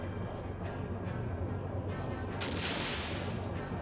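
Cannon fire booms in the video game Skies of Arcadia Legends, heavy low rumbling blasts repeating over a dense battle soundscape, with a brighter burst near the end.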